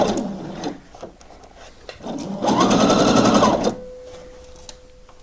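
A sewing machine stitches a blouse seam, running in one steady, loud burst of rapid stitching that lasts about a second and a half, with quieter handling sounds before and after it.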